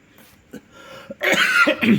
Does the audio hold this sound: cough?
yes